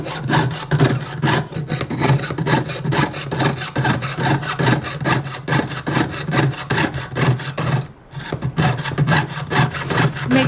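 Jeweler's saw cutting metal in steady rapid back-and-forth strokes, a continuous rasping buzz with a regular stroke rhythm, close and loud, briefly pausing near the end.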